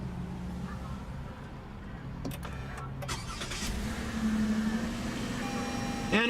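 A 2016 Toyota Avalon Limited with a 3.5-liter V6 starts by push button at an auto show, a brief cranking burst giving way to a smooth, low steady idle against background hall noise.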